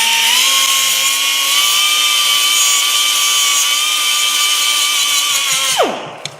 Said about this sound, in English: And we're just gonna grind them out.